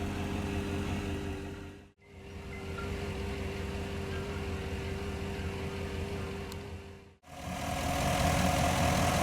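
A 2017 Chevrolet Tahoe Premier's 5.3-liter V8 idles with a steady, even mid-low drone, interrupted by two brief cuts to silence.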